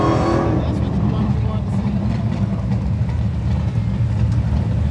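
Supercharged Dodge Demon 170 with a 6.1 engine at a drag strip, a loud sustained engine roar through the whole stretch, with a voice talking over it.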